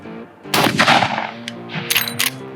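A .45-70 rifle fires at a medium-sized pumpkin outdoors: one loud, sharp report with a rolling, echoing tail, then a few fainter cracks and knocks.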